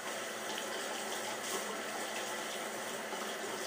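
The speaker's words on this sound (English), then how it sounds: "I'm going to go ahead and just get this brush wet off the tap" Running tap water pouring over an Omega 48 shaving brush as it is wetted, a steady broadband splashing rush, close and continuous with no speech.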